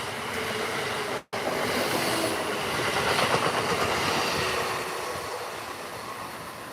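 Amtrak train 641 to Harrisburg passes close by, a loud steady rush of rail noise and wheel rumble that holds throughout, with a brief cut near the start and a slight fade at the end.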